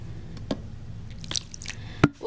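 Water poured into a tarantula enclosure: a few soft drips and small squishy splashes come close by, scattered over a faint steady background with a sharper splash near the end.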